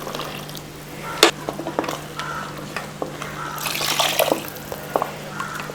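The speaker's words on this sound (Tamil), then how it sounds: "இப்போ தண்ணி சேர்த்துக்கலாம்" Water is poured into a tomato curry masala in a pan, splashing and bubbling with a few sharp clinks and stirring sounds, close by.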